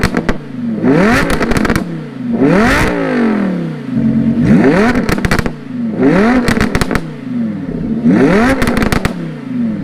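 Straight-piped Lamborghini Huracan exhaust revving hard in several repeated bursts, each rising to a howl and then cracking and popping loudly on the overrun, very close and dominant.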